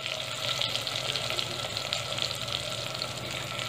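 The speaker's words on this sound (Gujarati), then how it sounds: "એક મિનિટ માટે આપણે આવી રીતે કારેલાને તેલમાં સાતડીશું।" Stuffed bitter gourds sautéing in hot oil in a pan over a medium flame, giving a steady, even sizzle and crackle of frying that runs unbroken throughout at moderate loudness, with no voices.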